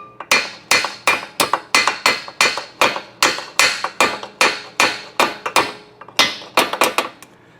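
Pins being hammered into the shifter assembly of a 1988 Porsche 911, heard as a steady series of sharp metallic taps, close and loud, repeating roughly twice per second with no talk.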